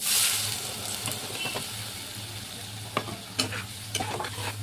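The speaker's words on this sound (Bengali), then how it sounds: "আমি এবার এটাকে কড়াইয়ের মধ্যে ঢেলে দিচ্ছি।" Spiced prawn and coconut mixture sizzling in a kadai with mustard oil, a soft steady frying hiss broken by a few sharp stirring scrapes near the end.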